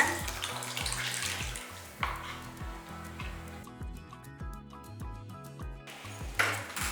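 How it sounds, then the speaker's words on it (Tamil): Tomato-mashed water pours and splashes steadily into a pot while making tomato and gooseberry rasam, with faint metallic pings and a low rhythmic thudding running underneath. "இந்த தண்ணி இதில் ஊற்றிடுங்க"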